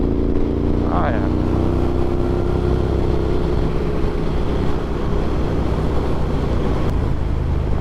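A Triumph Thruxton R motorcycle riding on a wintry road, its engine a loud constant low drone with wind rush, close to the rider, and a brief rising rev early on.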